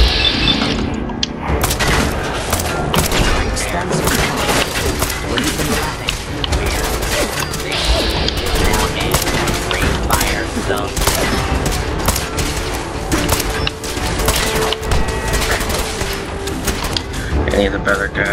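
Dense gunfire in Fallout 4, rapid repeated shots and bursts running almost nonstop at close, loud range, with a few booms mixed in.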